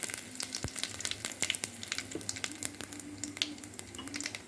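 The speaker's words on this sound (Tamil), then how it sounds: "இப்போ கடாய் வச்சு ஆயில் விட்டாச்சுங்க பட்டை சோம்பு இது பிரியாணி இலை கருவேப்பிலை" Whole spices such as cinnamon, fennel, bay leaf and curry leaves sizzle steadily in hot oil in a kadai, with crackling pops scattered across a constant frying hiss and no voices.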